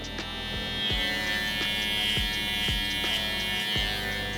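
Electric hair clippers buzz steadily and close up while cutting a taper around the ear, a constant high whine with faint rhythmic ticks as the blade moves through the hair, no voices present.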